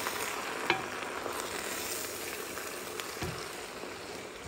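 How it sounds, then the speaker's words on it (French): Reduced spinach being stirred in a frying pan for chicken spinach lasagne: a steady, soft sizzle with light scraping strokes and one sharp clink near the start. "nos épinards ont bien réduit. Donc on vient remuer."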